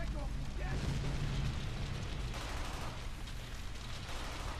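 Dense, continuous gunfire and explosions from a World War II battle in Brothers In Arms: Hell's Highway, a loud, unbroken roar of shots and blasts with a voice briefly shouting over it.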